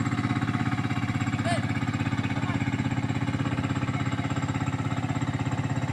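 A motorboat engine chugs steadily as the boat crosses a strong-current river, its rapid regular pulsing loud and close throughout, with a brief faint high chirp partway through.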